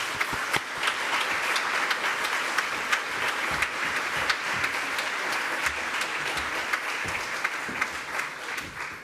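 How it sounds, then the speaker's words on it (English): Audience applause fills the hall as a keynote speaker walks onto the stage, a steady dense clapping that holds at an even level for the whole stretch without any voices. "please join me in a round of applause as Carlton joins us on stage"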